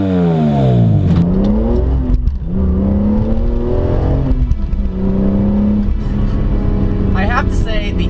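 A 2004 E46 BMW M3's engine climbs loud through the revs in repeated pulls, each rising howl broken by brief drops between gear changes, close and dominant throughout.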